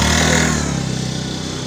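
Old motorcycle engine revving nearby, a loud rough rumble that swells briefly then settles into a steady pulsing idle.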